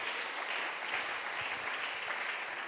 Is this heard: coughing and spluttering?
no